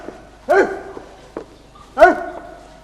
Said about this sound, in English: I warn you, if you bark again, I shall go straight for Master and Mrs.